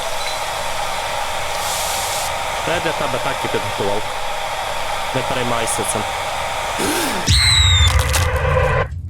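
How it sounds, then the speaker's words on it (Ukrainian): Steady whirring hair dryer in the video game Frosty Nights, a constant drone running throughout, with a person talking over it and a louder burst of noise near the end. "І фен."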